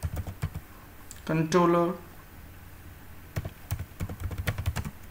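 Computer keyboard typing, scattered soft key clicks in short irregular bursts close by, with someone speaking partway through.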